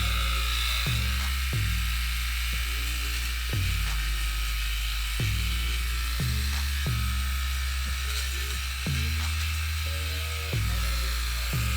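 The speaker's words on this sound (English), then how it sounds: "So we're gonna try the booger nose attachment" A Freebird Flex shaver fitted with its nose hair trimmer attachment runs with a constant high buzzing whine, close and loud, with regular low thuds and shifts in tone as it is moved.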